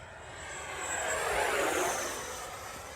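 A twin 70mm electric ducted-fan RC Su-30 jet passes overhead, a loud rushing whine that swells to a peak mid-pass and fades slightly as it moves away, with no talking.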